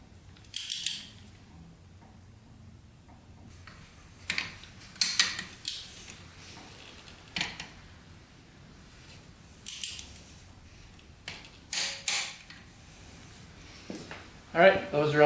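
Intermittent ratcheting clicks from a wrench tightening bolts in a crisscross pattern on a quad engine, short bursts separated by quiet pauses, close and fairly faint.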